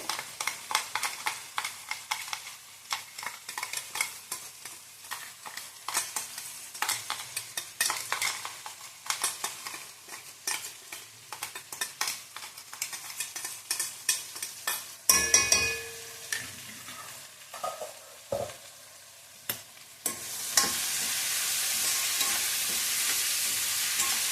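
Green chilli paste frying and being stirred in a pan for a Huli Soppina Gojju, with steady close sizzling and scraping strokes that break off, then a loud continuous hiss toward the end.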